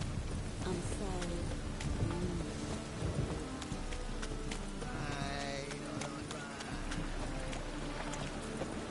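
Steady rain hisses with low rumbling thunder in The Witcher 3, a dense wet wash filling the whole scene, while game sounds and a sung voice rise over it.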